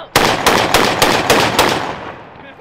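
Blank rounds fired in quick succession, about six loud sharp bangs roughly a third of a second apart, each ringing with a short echo before fading into a quiet tail.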